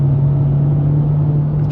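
A turbocharged car engine pulls hard under acceleration, giving a loud, steady, close drone that holds an even pitch throughout.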